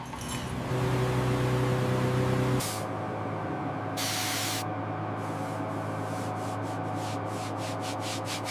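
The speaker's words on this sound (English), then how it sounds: "This pressure washer is doing the job." Pressure washer blasting rust off the steel hull of an old supertanker, a steady hissing spray throughout with a low tonal hum early on and intermittent bursts of stronger jetting, no speech.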